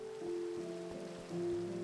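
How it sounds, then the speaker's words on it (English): Rain weather effect in the video game Minecraft: a steady, soft hiss of falling rain runs throughout, with sustained in-game tones layered over it and no talking. "I sure do love me some rain"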